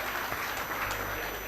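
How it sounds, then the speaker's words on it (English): Applause for a woman who answered a quiz question correctly at a talk on GST, a steady wash of clapping filling the room at moderate level without a break. "Please, a big round of applause for the gorgeous lady."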